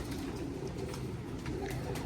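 Pigeons, fancy teddy-type birds kept by a breeder, coo steadily in low throaty murmurs at close range, a continuous layered burbling from several birds with no talking.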